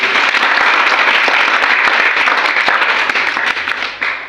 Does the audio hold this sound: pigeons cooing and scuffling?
no